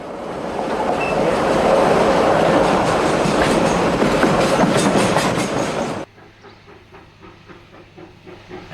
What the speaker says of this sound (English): As the train blasts out of the tunnel at Heathcote, the smoke-belching locomotive is a vivid reminder of days gone by